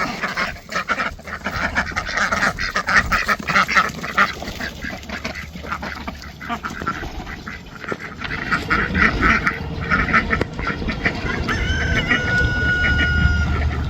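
A rooster crows amid a busy farmyard chorus of ducks quacking and other poultry clucking, with a dog audible too; steady, continuous background without talk.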